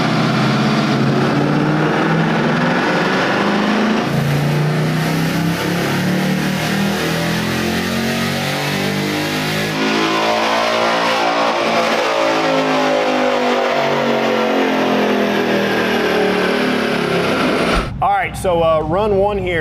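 A 2022 Ford Mustang GT with the PP1 package, carbon trap and resonator delete, roars through a full-throttle dyno pull, engine climbing steadily to high rpm for about 17 seconds before cutting off and settling near the end.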